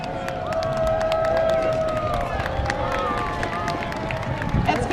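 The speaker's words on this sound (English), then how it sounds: "Let's give them a big round of applause." Parade crowd lining a downtown street clapping and cheering as a Marine color guard passes, a steady sustained wash of applause mixed with a faint tonal hum and some voices.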